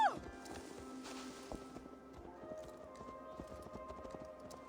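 A ridden horse trots along in Assassin's Creed Valhalla, its hooves clip-clopping in a steady, rhythmic beat at moderate distance, fairly quiet beneath faint game ambience.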